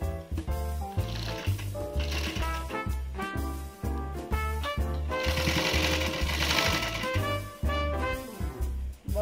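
A home sewing machine stitching a fall onto a sari border with matching thread, its motor and needle whirring in a loud, steady rhythmic chatter that briefly pauses and restarts.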